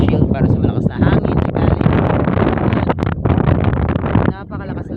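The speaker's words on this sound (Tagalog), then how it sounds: "Napakalakas talaga ng hangin." Very strong wind near a mountain blasts the microphone with heavy, gusting rumble and buffeting, while a person speaks close by through the roar.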